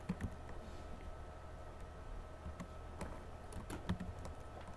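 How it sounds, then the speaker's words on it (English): Quiet clicking of keys on a computer keyboard, a sparse run of light taps over a steady low room hum, with no talking. "I'm going to type in rand_int."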